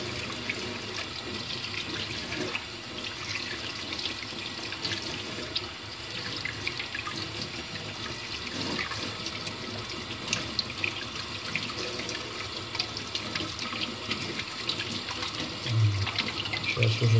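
Tap water runs steadily into a sink as grains are rinsed for homemade carp and crucian bait, a loud continuous splashing rush that fills the whole stretch without a break.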